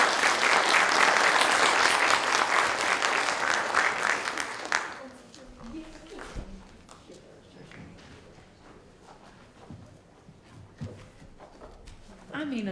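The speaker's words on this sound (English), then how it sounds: "another round of applause for Dr. Segovia" A conference audience at a Texas intern event applauds a speaker, a loud, dense burst of clapping for about five seconds that cuts off sharply. Afterward, quieter room noise and talking follow.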